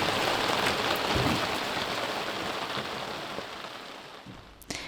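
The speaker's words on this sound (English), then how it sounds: "it's raining!" Steady rain falls on a sailing boat at anchor off the Peloponnese, a dense, even hiss of drops close by that fades slightly toward the end, with no voices.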